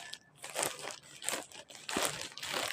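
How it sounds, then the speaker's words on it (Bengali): Packaging crinkles and crunches as a parcel is unpacked, in several close, loud bursts of rustling about half a second apart, with no voice over it. "আপনাদের সামনে এটা আমি আনপ্যাক করতেছি।"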